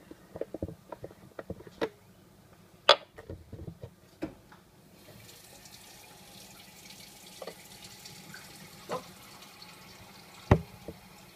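Water, plain or sparkling, is poured into a container during a home experiment, with a faint trickling fill, scattered drips and a few louder clinks against the vessel, all quiet and nearby.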